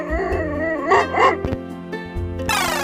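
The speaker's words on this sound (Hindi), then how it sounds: "D for dog. मैं कुत्ता हूँ और मैं घर की रखवाली करता हूँ।" A cartoon dog barks and yelps a few times over a bouncy children's alphabet rhyme tune, with the music steady underneath.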